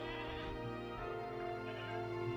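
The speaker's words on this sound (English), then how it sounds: "There was another goat." A goat bleats in a zoo park-building game, a sustained nasal bleat over a dense background of park ambience and layered hum, with no talk.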